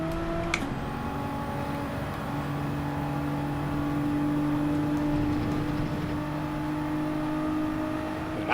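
A Supra race car engine in Gran Turismo 7, running at Watkins Glen with damage, gives a steady sustained drone with a rising whine near the middle, close and even throughout.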